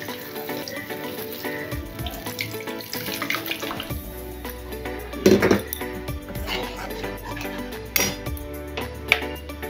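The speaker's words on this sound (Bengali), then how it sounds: "এরকম সময় দিয়ে দেবো জল।" Water pours into a pan of pabda fish curry cooked in mustard-poppy seed paste, a steady splashing stream with a few clinks of utensils against the pot.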